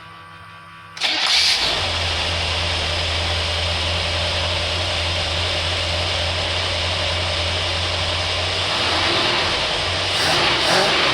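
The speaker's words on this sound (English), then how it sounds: "notice it's idling a little high" A carbureted car engine with a Holley carburetor cranks and catches, then settles into a steady, fairly fast idle with a low rumbling hum close by.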